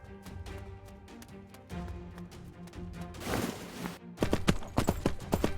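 Horse hooves clip-clop in the Three Kingdoms Zhao Yun video game as a level 65 horse is ridden, a steady rhythmic patter of hoofbeats under game music.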